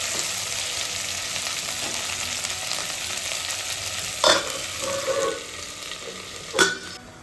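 Tomatoes and green chillies frying in a pan, a steady loud sizzle with two sharper scraping bursts as they are stirred, close up, no talk.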